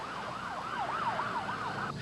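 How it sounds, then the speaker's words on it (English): A Johnson County ambulance siren wails in a steady rising and falling pattern, loud and continuous for about two seconds, with road noise beneath it. "a Johnson County ambulance unit arrived"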